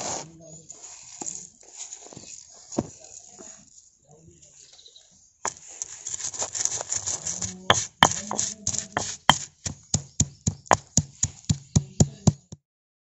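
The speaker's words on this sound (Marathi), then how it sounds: "तर आधी मी हा मसाला खलबत्त्यात कुटून घेते" Onion, coconut, ginger, garlic, coriander and tomato are pounded in a mortar and pestle, giving a string of heavy, evenly spaced thuds that start softly and grow louder and more regular, with someone talking at the start.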